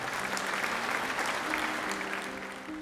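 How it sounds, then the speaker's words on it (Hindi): A church congregation at a sermon on prayer claps loudly and steadily for a few seconds, with faint voices and a sustained tone mixed beneath the dense applause. "आइए उसके लिए जोरदार तालियां बजाएं।"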